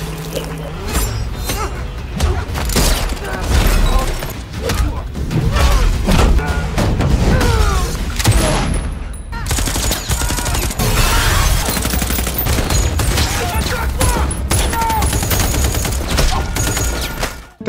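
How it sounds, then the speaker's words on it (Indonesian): Dense bursts of gunfire crackle through a loud, chaotic film battle scene with terrorists in the Philippines, with booms and debris noise, sustained with brief pauses. "Tembakan itu membuat bahu kiri Sersan Sugar terluka"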